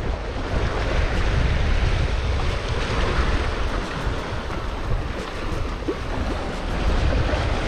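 Strong wind buffets the microphone over a constant roar of surf at Larangan Indah beach in Tegal, loud and unbroken throughout, with no voices.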